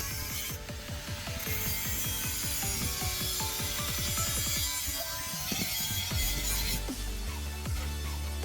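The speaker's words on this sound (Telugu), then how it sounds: "డమ్మీ పెట్టడానికి అదే పైప్ పైన మార్కింగ్ చేసి కట్ చేసాము" A 2.5 x 1.5 inch rectangular metal pipe is cut for a car parking shed. A loud, continuous harsh grinding fills the scene, and its pitch keeps sliding and shifting as the cut progresses.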